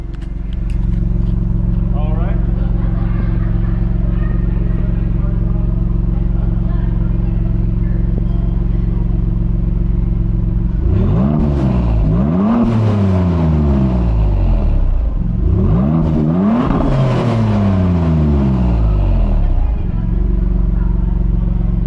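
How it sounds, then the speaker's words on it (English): A Maserati MC20 sports car engine idles with a low steady drone, then roars through two hard full-throttle revs in sports mode, each sweeping up in pitch before dropping back. "let me ask if I can floor it in sports mode"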